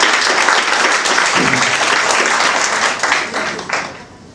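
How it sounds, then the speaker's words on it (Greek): Audience applause at a Greek pita-cutting event held by an association, a loud, dense burst of clapping that stays steady and then tapers off near the end. "γι' αυτό είναι ένα χειροκρότημα"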